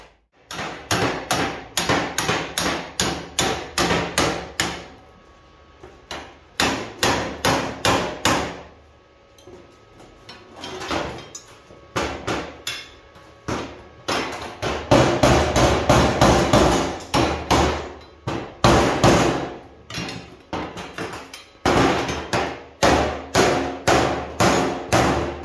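A hammer repeatedly beats dents out of a metal beach stool being restored, with loud, close, ringing strikes in rapid bursts and short pauses between rounds.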